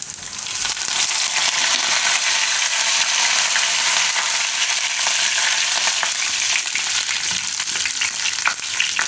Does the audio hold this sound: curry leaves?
yes